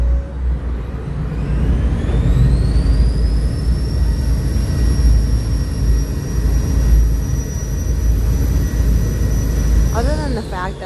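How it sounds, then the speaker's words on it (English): Ferry engines drone steadily underfoot, loud and close, with a rising whine that climbs and then holds a high tone. Near the end comes a brief warbling chirp. "I'm standing right on top of these very loud engines, I find the ferry very, very peaceful"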